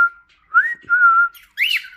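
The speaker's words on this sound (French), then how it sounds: "vous allez m'entendre siffler comme jamais" A person whistles loudly to pet cockatiels and budgerigars indoors, three clear close tones with upward sweeps separated by short pauses, alone without talk.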